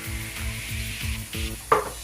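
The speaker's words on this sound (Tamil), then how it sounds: "இப்போ வந்து தேங்காய் பால் விடுறேன்." Coconut milk hits sizzling mutton curry in a pan, giving a steady fizzing sizzle with rhythmic stirring scrapes and a sharp clack near the end, close and fairly loud with no talk.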